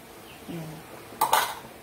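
A metal pot lid set back down on a pot of simmering sinigang, fish and malunggay soup, giving a brief pair of close clinks and clatters in a quiet kitchen.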